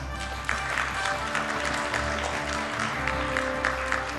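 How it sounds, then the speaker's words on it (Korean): Audience members clap at a provincial industry-academia award ceremony, a full, continuous round of applause with music playing beneath it, fairly loud and close. "다시 한번 큰 박수 부탁드리겠습니다"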